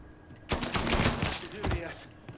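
Gunfire in the Mafia 3 video game: a burst of sharp shots crowds the middle of the moment, loud and close, fading with a couple of later cracks.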